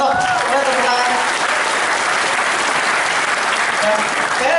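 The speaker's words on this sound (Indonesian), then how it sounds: "Ya, tepuk tangan." Audience at a 3i Networks event bursting into loud, dense applause, sustained and close for several seconds with a few voices mixed into the clapping.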